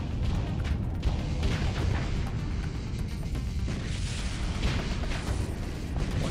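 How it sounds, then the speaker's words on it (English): Fast missile racks firing in the space combat game Starsector, a steady churn of launch whooshes and low rumbling booms blending into a continuous dense roar at moderate level. "Fast missile racks. So cool missile launch sounds."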